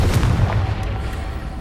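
Confringo fire spell exploding in Hogwarts Legacy, a deep booming blast with a rumbling tail lasting about a second and a half, loud and close.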